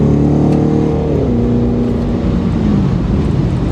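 A tuned Chevy SS accelerating hard, its loud engine roar heard from inside the car, with the pitch dropping sharply at a quick gear change and then building again.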